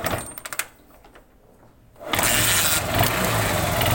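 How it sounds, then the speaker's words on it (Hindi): A motorcycle that had trouble starting is kick-started: a few sharp clicks and thumps, a quiet pause, then the engine catches and settles into a loud, steady idle. "2 किक में मेरी बाइक जो है स्टार्ट हो गई थी"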